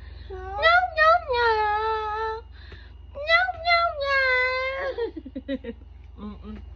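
A cat meows repeatedly up close in long, drawn-out wavering cries, then gives a run of short chirping mews, against a quiet indoor background with a low hum.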